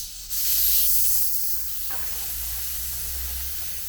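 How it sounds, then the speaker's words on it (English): Pressure bleeder on a brake fluid system releasing air pressure, a steady loud hiss of escaping air lasting several seconds without talk. "I'm just going to release the pressure, like so"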